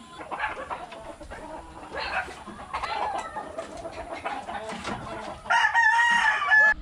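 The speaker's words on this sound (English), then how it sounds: "Many chickens." Chickens cluck and chatter nearby in rural Philippines, with a rooster crowing loudly toward the end; no talking.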